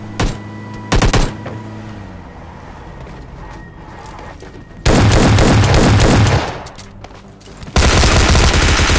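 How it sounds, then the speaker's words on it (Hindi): BGMI Lite mobile battle royale gunfire rattles as loud, rapid automatic bursts, with short shot clusters early and sustained heavy volleys later, up close and dominating the mix. "कभी कुछ बंदे मेरे पे फायर करते हैं"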